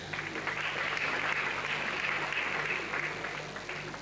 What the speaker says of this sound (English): Please, give our round of applause.